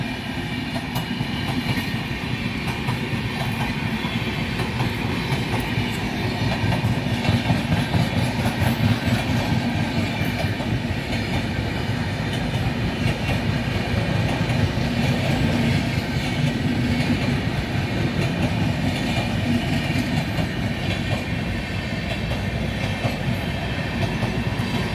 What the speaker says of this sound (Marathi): बघा आता ट्रेन चालली